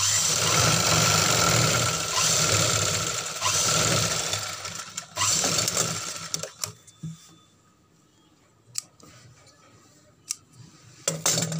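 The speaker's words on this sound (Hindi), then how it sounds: "उस निशान पे हमें सिलाई लगा लेना है" A sewing machine stitches along the neckline of an embroidered suit, running loud and continuous for about five seconds, then stopping, followed by scattered clicks and fabric handling.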